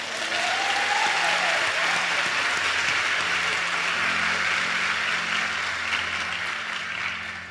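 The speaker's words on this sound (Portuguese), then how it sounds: "Aplaude isso." An audience at a religious worship talk breaks into sustained applause, a dense steady roar of clapping lasting several seconds before tapering slightly at the end.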